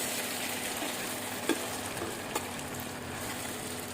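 Fried potatoes stirred into a mutton curry, with a soft continuous sizzle in the pan, a couple of brief spoon knocks, no talking.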